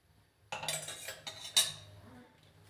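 A spoon scrapes and clinks against a pan while brinjal curry is stirred, several sharp metallic knocks over a soft scraping, close and fairly quiet, with no voices.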